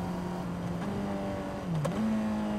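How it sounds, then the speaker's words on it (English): A Honda CBR600RR motorcycle engine hums at a steady pitch, then its note dips abruptly and climbs back, a quick downshift without rev matching, with a jolt of engine braking. "when you just downshift regularly, you're gonna abruptly engine brake."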